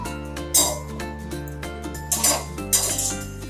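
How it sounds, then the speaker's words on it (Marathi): Makhana (fox nuts) dry-roast in a kadhai with no oil or ghee, stirred with a utensil that scrapes and clinks against the metal in irregular strokes, over steady background music. "ही मखाने मी जरा कढईत टाकते, हे थोडं गरम करते."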